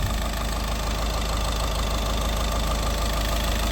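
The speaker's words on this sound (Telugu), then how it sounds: "ఇంజన్ బీటింగ్ ఒకసారి చూడండి." A 2013 Volkswagen Vento Highline diesel idling, a steady, close, continuous engine hum with a faint rhythmic knock and no change in pace throughout.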